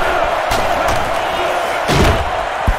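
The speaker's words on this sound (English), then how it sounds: "The sellout crowd is really making a difference now as these guys can't even call the play." Steady roar of a sellout stadium crowd in NCAA Football 11 during a Kent State vs. Alabama game, a dense continuous wash with a few sharp thumps and swells, voices faintly mixed in.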